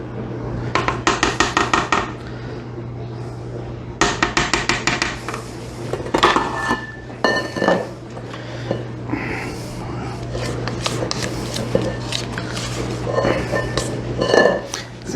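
Metal beater scraped against a mixing bowl while cake batter is cleared off, with repeated clinking and scraping strokes in short bursts, fairly close, alongside a steady low hum.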